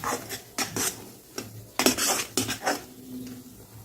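A spoon scrapes and stirs mango pulp roasting in a pan over low gas, giving a series of sharp metallic scrapes and clinks in uneven bursts, close up with no voices.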